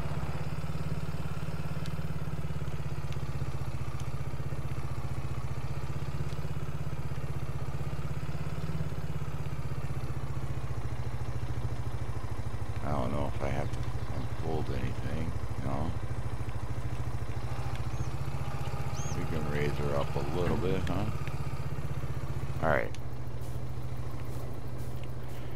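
A 360-horsepower combine harvester's engine in Farming Simulator 22, a steady low rumbling drone held throughout while the machine turns, with someone talking over parts of it.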